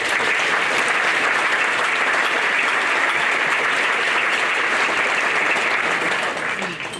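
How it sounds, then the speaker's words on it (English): A large audience applauds steadily at the 2016 Beautiful Bakersfield Awards ceremony, a dense, loud wash of clapping that holds for several seconds before tapering slightly at the end. "let's give them all a big round of applause, shall we?"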